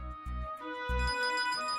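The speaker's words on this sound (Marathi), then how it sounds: "तुझा फोन वाजतोय" A phone rings in a domestic scene, a short electronic ringtone with a few pulsing low tones and a bright sustained melody, close and clear with no voices.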